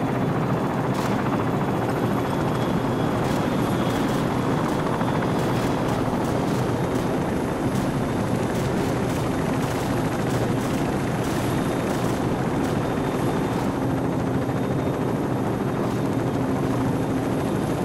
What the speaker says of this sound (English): Crew, be advised, friendly helicopters entering the area.